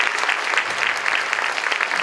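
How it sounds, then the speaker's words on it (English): An audience at a school honors diploma scholars celebration applauding, dense steady clapping at moderate loudness with no voices over it. "Let's give them a round of applause"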